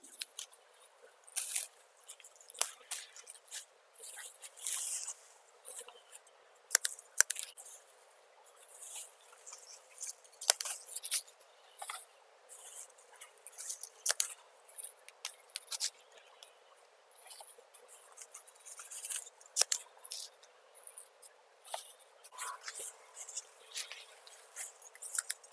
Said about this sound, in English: Let's get all of this basil stripped and in water.